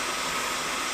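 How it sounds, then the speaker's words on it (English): A heat gun warming 25mm PVC pipe blows a steady, close, airy whine like a hair dryer, unbroken through the short moment with no talking. "so I've got the heat gun on it"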